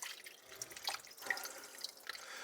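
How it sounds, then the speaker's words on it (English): Tap water running into a soup pot with a ham bone in it. A soft, steady splashing and trickling is heard up close at low volume, with no talking. "Let's go ahead, put our water in."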